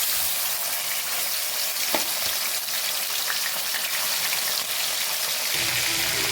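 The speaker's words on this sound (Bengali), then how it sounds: "কড়াইয়ের দিকে তেল দিয়ে দেব, তারপরে মাছটা আমি ভাজবো" Eel fish frying in oil in a wok, a close continuous sizzle with crackling spatters, one sharp knock near the start and a slight change in tone near the end.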